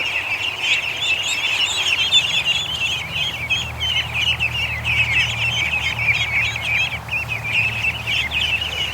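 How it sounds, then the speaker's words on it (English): Geese and ducks call in a near, steady stream of honks and chirps, with a few birds squawking over one another, in a farmyard where a dog herds them. "The geese are coming over to check us out."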